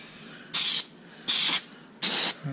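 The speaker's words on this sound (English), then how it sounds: "Spray the inside of the panel here good." Three short, loud hissing bursts of an aerosol spray onto the inside of a car dash panel, evenly spaced with brief pauses between them.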